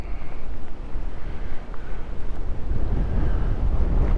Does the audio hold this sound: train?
no